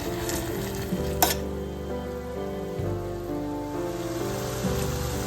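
Ginger, garlic and green chilli sizzle steadily in butter in a pan while being stirred, a dense continuous frying hiss with a sharp clink of a utensil near the start.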